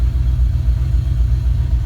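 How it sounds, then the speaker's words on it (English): A 1964 Mercury engine fitted with Holley Sniper EFI idles after a cold start, giving a steady, loud low rumble that runs without a break. "then as the engine warms up, it settles down"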